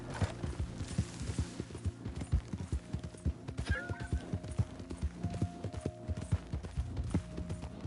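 A horse in a video game, its hooves clip-clopping in a quick irregular rhythm close by, with a whinny partway through and some faint game effects underneath.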